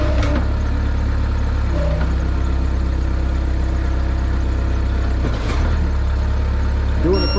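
A skid steer hauling corn silage out of a barnyard, its diesel engine droning steadily and close with occasional clanks and shifts in pitch, voices faintly in the background.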